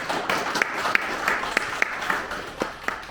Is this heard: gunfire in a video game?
no